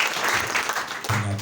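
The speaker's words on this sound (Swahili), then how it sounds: "Tutapigia basi Yesu Kristo makofi." A church congregation at a worship service applauds for Jesus Christ, a short burst of dense, steady clapping heard close and filling the room.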